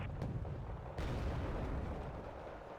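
HE mortar fire in a video game: dense, booming barrages of rapid blasts rumble continuously and loudly, with a sharper impact partway through.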